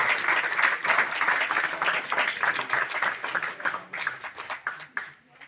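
An audience at a poetry stage event breaks into applause, a dense wash of clapping that gradually thins and fades out toward the end.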